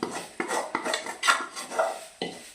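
Coconut sautés in a pan, heard mostly as close metal clanks and scrapes of a spoon against the pan in uneven strokes, with little sizzle and no talk.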